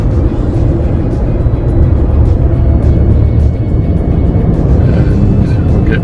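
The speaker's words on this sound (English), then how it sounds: "still driving down Antelope Drive" A car driving down Antelope Drive toward Antelope Island, Utah, a loud steady road and engine rumble heard from inside, continuous throughout with no talk.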